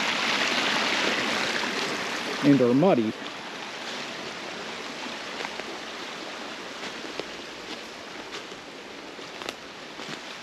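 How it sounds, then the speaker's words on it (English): A brook runs with a steady broadband rush of flowing water, continuous and fairly close, while someone speaks briefly over it near the start. "I'm gonna try to get across this brook without getting soaked"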